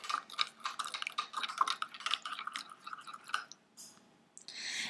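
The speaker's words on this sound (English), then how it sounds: "And I'm just going to give it a stir." A spoon stirs yeast and granulated sugar into water, giving a run of soft, quick clinks and wet swishes close by, pausing briefly before a final burst of scraping.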